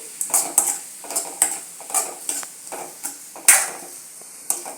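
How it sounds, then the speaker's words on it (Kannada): A spoon or spatula scrapes and knocks rhythmically against a pan while potato palya with garam masala is stirred, about ten distinct clattering strokes over a faint sizzle, close and clear. "ಸುಹಾನ ಹಾಕಿ ಚೆನ್ನಾಗಿ ಇವುಗಳನ್ನು ಮಿಕ್ಸ್ ಮಾಡ್ತೀನಿ"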